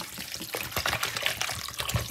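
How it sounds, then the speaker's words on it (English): Bottled water poured over sea moss to rinse it, a close, steady splashing trickle into a bowl or sink lasting the whole moment, with no talking. "So you're gonna use some bottled water and rinse it."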